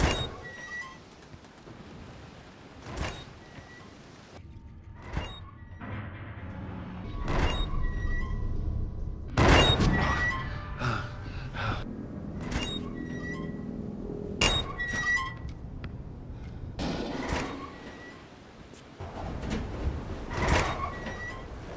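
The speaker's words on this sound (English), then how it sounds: "one of the most aggravating sounds in the film was the sound of hatch doors and doors opening" Screeching, grinding hatch door opening effects from the film Harbinger Down, a series of harsh metallic scrapes and thunks recurring every couple of seconds over a low rumble, with no talking.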